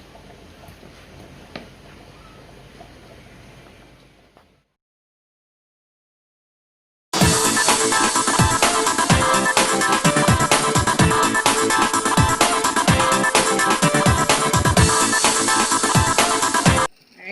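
A blender blending ginger with water runs loudly and steadily for about ten seconds with a dense, churning whir, after some quieter background noise and a brief pause.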